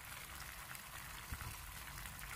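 Water and fish sauce simmering in a pot for a vegan rose-shaped tofu kho quet dish, a steady close bubbling hiss that runs unbroken with no voices.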